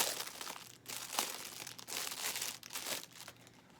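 Plastic packaging from a Faecrate subscription box crinkles and crackles close by in uneven bursts, with brief pauses between handfuls.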